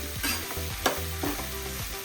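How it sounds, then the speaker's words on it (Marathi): Onion and tomato fry with curry leaves in a pan for a Konkani-style dry shrimp masala. A loud, continuous sizzle runs close throughout, with rhythmic stirring scrapes about every half second and no voices. "आता त्याच्यामध्ये आपण कांदा आणि टोमॅटो लाल होईपर्यंत थोडा भाजून घ्यावा।"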